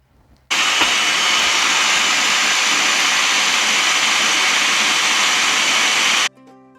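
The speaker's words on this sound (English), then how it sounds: "Slowly add in the balsamic vinaigrette and run it on slow speed." Kitchen blender running on slow speed while mixing a lemon basil balsamic vinaigrette, a loud steady whirring roar that switches on abruptly, holds constant for about six seconds and then cuts off.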